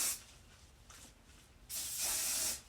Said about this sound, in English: I'm gonna use a little bit of like hairspray when I'm slicking it down.